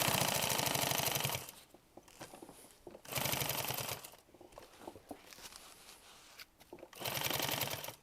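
An old sewing machine stitching in three fast, steady mechanical bursts, separated by quieter pauses with light handling clatter.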